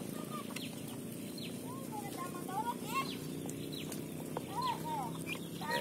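Soft chirps and peeping from Muscovy ducklings feeding in the morning repeat over steady background noise, with occasional louder calls close by.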